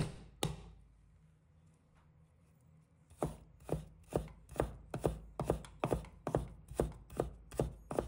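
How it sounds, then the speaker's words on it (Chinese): A knife on a cutting board mincing a piece of fresh ginger for sweet and sour fish, a couple of isolated strikes then a steady run of brisk, evenly spaced chops, close and crisp. "1块生姜，把它切成末。"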